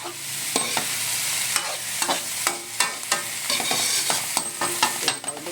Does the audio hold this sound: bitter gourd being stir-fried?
yes